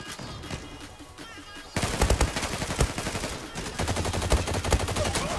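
Rapid automatic gunfire from the Fateh rifle in the online shooter Zula, dense repeated shots that start abruptly after a quieter stretch and keep rattling loud and close, with a short pause before another sustained burst.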